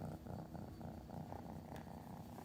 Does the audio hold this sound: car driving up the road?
no